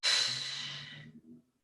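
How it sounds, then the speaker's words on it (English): A deep exhale during a Pilates plank: one long, close breathy rush of air that starts strong and fades over about a second and a half, with no talking. "I just want you to take deep inhales and exhales for 3"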